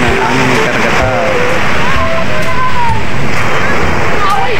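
Sea surf at high tide over a gravel shore, a loud continuous wash of waves with wind buffeting the microphone, while people talk over it nearby.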